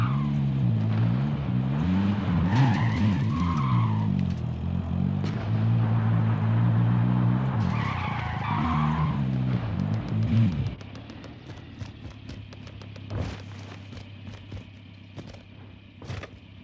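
A vehicle engine drones loudly with a shifting, wavering pitch while being driven in Call of Duty Warzone, then cuts off into quieter game ambience with a few scattered thumps.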